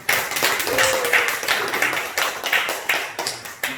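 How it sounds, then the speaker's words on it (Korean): Church congregation at a Wednesday service clapping to welcome missionaries, a fairly close run of rhythmic claps rising and falling over a few seconds, with a brief voice partway through. "우리 박수로 환영하겠습니다"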